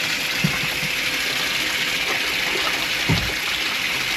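Water gushes steadily out through a wide-open plug, a loud continuous rushing wash with a couple of brief dull knocks, no voices.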